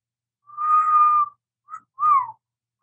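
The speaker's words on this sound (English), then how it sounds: "Can you do the loud whistle?" A person whistles loudly, one long held note followed by a short chirp and a sliding downward whistle, sharp and close with silence between.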